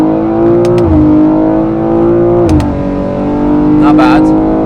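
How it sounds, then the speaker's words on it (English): A McLaren 765LT on the Nürburgring revs hard through a first gear pull, its engine note climbing steadily with brief dips at shifts, loud and close throughout. "Should we do first gear pull?"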